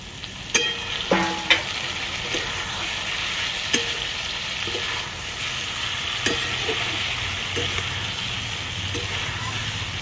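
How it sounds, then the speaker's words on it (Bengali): Chicken pieces with bay leaf, dried red chilli and whole black pepper sizzle and crackle steadily in a hot pan, with occasional stirring knocks near the start, close and continuous. "একটু ভালো করে ভেজে নেবো, তারপরে চিকেনটা দিয়ে দেবো।"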